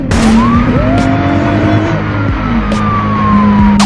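A loud, tuned 600 HP Nissan R32 Skyline engine runs roughly, revving and droning, pitch sliding up and down unevenly, with a few sharp clicks and pops over the rumble.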